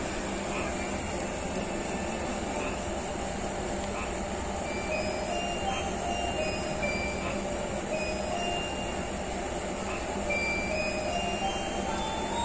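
The Sawunggalih passenger train passes at a station in a continuous, even rumble with high tonal whine layered above, moderately loud and steady throughout.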